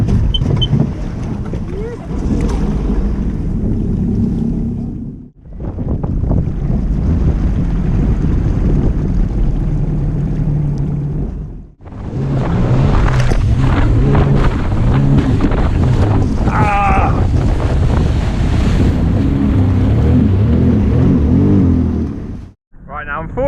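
A 2018 Sea-Doo personal watercraft riding on the sea, its engine roaring steadily with heavy wind buffeting and water rush, broken by a few brief dips in noise.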